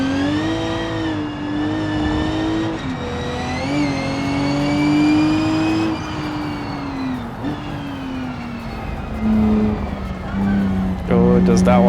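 Racing car engine in a video game, revving with a sustained tonal whine that rises and falls through gear changes over about twelve seconds, with a person talking over it.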